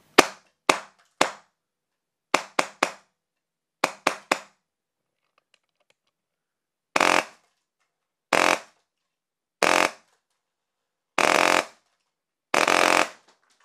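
Polarstar Jack airsoft rifle in a VFC SR16 CQB build firing: a quick run of sharp single shots, then a few short bursts, each loud and close with no talk.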